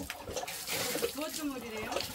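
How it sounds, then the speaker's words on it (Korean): Water gushes and splashes from an old hand pump at an empty countryside house, a faint, rippling pour with people talking over it. "야, 이제 맑은 물 나온다."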